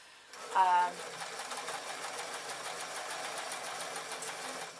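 A sewing machine runs steadily, stitching white interfacing onto orange satin for a small toy parachute, its rapid even motor whir and needle patter continuing close and clear after a brief voice at the start.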